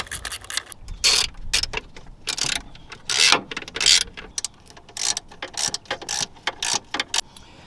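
A ratchet clicks in quick bursts, close and fairly loud, as bolts holding a VW Beetle convertible soft top are tightened, with short pauses between runs of turns.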